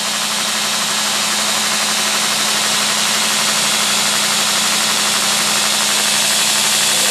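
A grinding wheel hollow-grinds a knife blade, making a loud, steady, broadband hiss and whine with a constant low hum underneath that runs the whole time without pause, and no voices.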